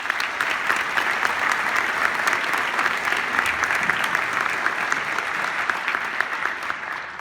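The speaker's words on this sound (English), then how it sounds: "If you would please give them a round of applause." Steady, full applause from the audience at a TMEA Region 31 Symphonic Band concert at Carroll Senior High School, an even wash of clapping sustained for several seconds.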